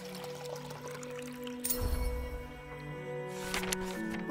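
Water pours into a fish tank in a video game, a continuous splashing fill with a surge of bubbling partway through, set against soft background music and ambience.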